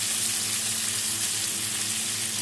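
Chopped onion sizzles in hot oil in a pan for a Bengali fish-head chorchori, giving an even, unbroken hiss of frying close by with no voices.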